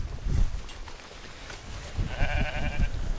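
Sheep bleat in an open field on a shepherd's hillside farm in Ireland: a few wavering, nasal bleats rise over steady outdoor wind and rustle, fairly close and moderately loud.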